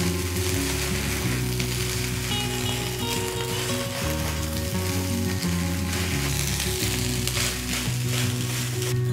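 Loud continuous sizzling of rice frying in a hot pan for nasi ruwet, with a steady hiss and underlying music, no speech.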